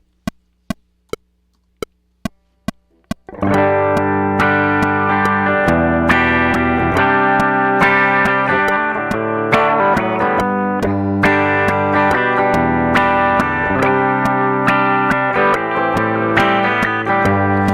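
A few sharp metronome-like clicks, then a loud, sustained electric guitar run through effects, thick distorted chords ringing continuously.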